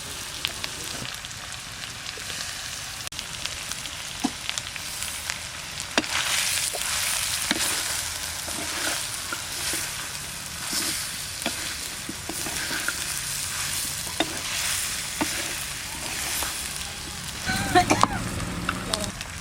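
Country chicken being stirred and fried in a pot with gondhoraj lemon leaves: a continuous sizzle with repeated scraping clinks of a spoon against the metal, close and steady, briefly louder near the end.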